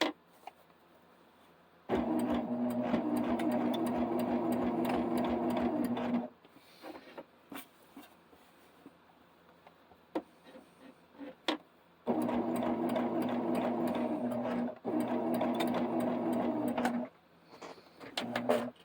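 A sewing machine stitches appliqué onto a quilt block in two long, even runs of whirring, each broken by a brief pause, with clicks and handling sounds in the quieter stretches.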